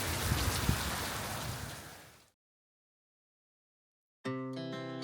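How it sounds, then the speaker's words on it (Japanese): Heavy rain falls outside a hot spring inn by a lake in Fukui, a dense steady hiss of drops on surfaces that stops abruptly and gives way to silence and then music. "周辺を撮影しようと外に出たらかなり雨が降ってきました。"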